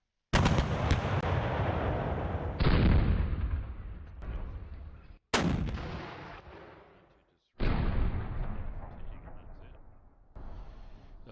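Artillery fire in the Panzer Campaigns Bulge 44 wargame, heard as a series of loud booming blasts, each followed by a long decaying rumble, with no talk.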